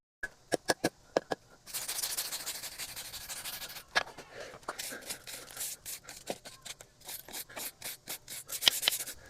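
A wire wheel on a drill scrapes brick pavers in short rasping strokes, then in longer continuous gritty scouring with uneven bursts, quiet and close, with no talk.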